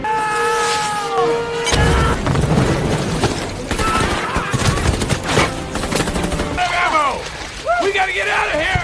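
Dense battle gunfire with machine-gun bursts and fusillades, rapid overlapping shots and heavy booms filling the whole scene loudly and continuously, with shouting voices mixed into the din.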